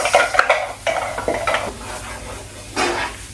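Eggplant sweating in a pan, ahead of a black bean sauce: soft sizzling under scattered scrapes and clinks of a utensil against the pan, fairly close and steady, with no voices.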